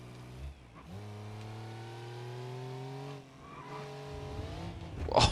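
A kei car's small engine in the BeamNG.drive racing game, heard under steady throttle with its pitch rising through the gears, shifting twice, then ending in a harsh burst of tire noise.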